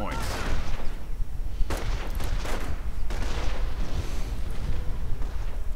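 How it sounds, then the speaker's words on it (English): Nebelwerfer rocket barrage in a World War II video game: a dense, continuous roar of launches and blasts with sharp bursts layered throughout, loud and sustained with no pause. "Nebelwerfer rockets being launched in an attempt to help out the Puma"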